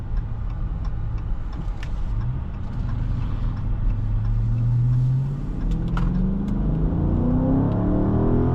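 A 2023 Dodge Charger R/T Scat Pack Swinger Edition accelerates hard, heard from inside the cabin as a steady engine roar whose pitch climbs through the gears, loud and continuous throughout.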